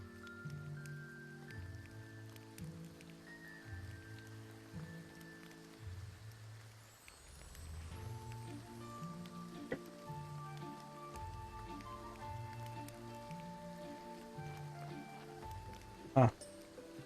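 Soft rain patters continuously in the video game Graveyard Keeper, faint beneath a looping game music track, with one sharp click near the end.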